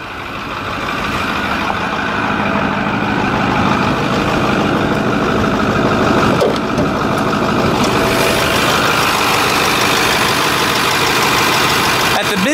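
A 2010 Ford F550's 6.4-liter Powerstroke turbo diesel V8 idles loudly and steadily, a constant low clattering rumble close by.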